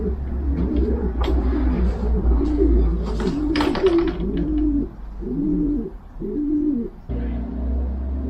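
Racing pigeons back home in the loft coo repeatedly, rhythmic low throaty calls close by over a steady background rumble, with a few brief sharp rustles or chirps.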